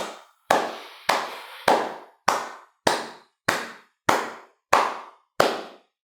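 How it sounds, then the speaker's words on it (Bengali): A comic applause sound effect: about ten sharp, evenly spaced clap-like bursts, each with a short ringing tail, loud and alone with no talking. "এই মেয়েটার জন্য একটু তালিয়া হোক।"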